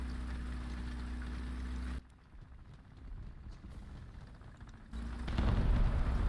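Tank gunfire from an M50 in the War Thunder video game, heavy booming blasts and rumble, a loud stretch, a quieter gap, then another loud burst.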